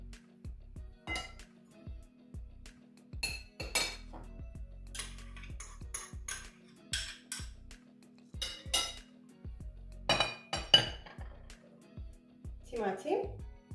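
A spoon scrapes and clinks against a bowl while tuna macaroni salad is mixed, giving irregular sharp metallic taps and clatters spread across the stretch, fairly close, with quiet gaps between strokes.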